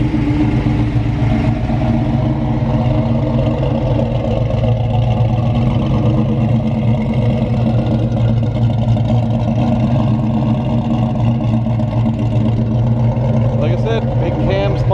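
A 1967 Dodge Dart with a 318 V8 and a big cam drives along, its engine holding a steady low drone throughout, close and continuous, with someone talking over it.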